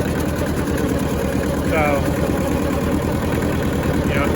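An old rusty Hinomoto tractor engine runs steadily at around 1200 RPM while mowing, a loud continuous low drone under a man's brief speech.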